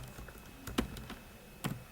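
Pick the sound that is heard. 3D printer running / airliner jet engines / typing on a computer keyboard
typing on a computer keyboard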